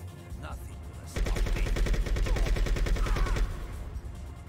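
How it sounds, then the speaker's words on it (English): Shotgun fire in the video game Bad Boys: Miami Takedown comes as a rapid burst of loud, close blasts lasting about two seconds, set against a busy game soundscape. "Shotgun rounds."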